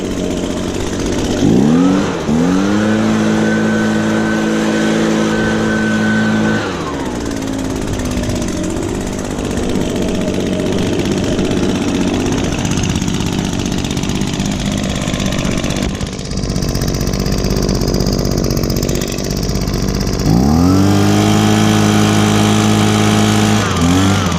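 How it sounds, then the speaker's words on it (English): Echo handheld leaf blower, an older discontinued model, used to clear a dirty patio; a loud, close, steady two-stroke roar that drops to idle midway, then revs back up near the end. "Still a really good handheld blower."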